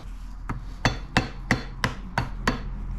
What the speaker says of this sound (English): Couple of soft taps with a hammer to get underneath it